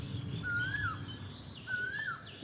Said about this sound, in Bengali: কোকিলের ডাক মনে হয় না?